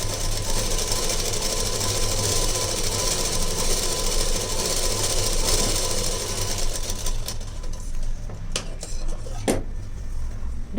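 A sewing machine stitches a blouse lining in a fast, continuous whir for about seven seconds, then stops, leaving a few sharp clicks and taps near the end.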